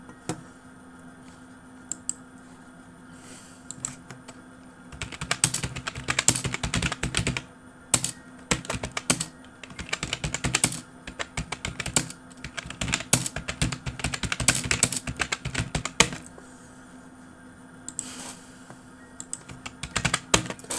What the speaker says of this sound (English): You probably can hear my keyboard sound very loud, right? When I type.